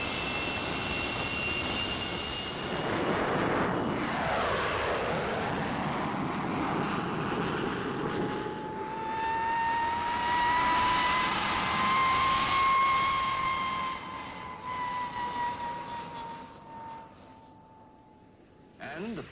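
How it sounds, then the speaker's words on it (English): A 1951 British jet fighter, the P-1067, flies past with a loud, continuous engine roar that swells twice as it approaches and goes by, with a falling whine and a high turbine tone, then fades to a quieter hum. Someone talks over it. "and the P-1067, the fastest fighter flying today."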